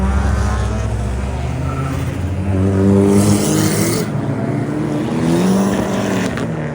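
A car engine revs steadily with a rising and falling drone, loud and close, holding through the whole stretch with no talk.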